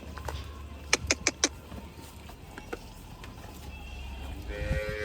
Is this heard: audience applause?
no